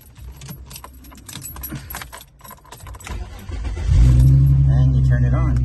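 Car keys jangle as they are slid into the ignition of a G35 sedan, followed by the engine starting and settling into a loud, steady idle close to the microphone.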